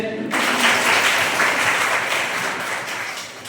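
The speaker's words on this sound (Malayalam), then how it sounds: "എല്ലാരും കൈയടിച്ച്" Spectators at a magic show and birthday celebration clap together in a loud, sustained round of applause that swells quickly and holds steady before easing slightly.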